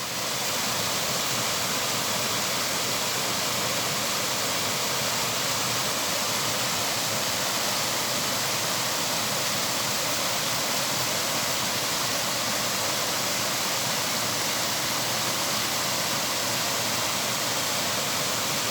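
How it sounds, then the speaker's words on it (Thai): Irrigation channel water pours steadily into a river, a constant loud broadband rush like a small waterfall, unbroken for the whole stretch with no voices. "น้ำนี่ไหลมาจากเหมืองนะเจ้า มาจากลำเหมืองเจ้า มาลงแม่น้ำยาว"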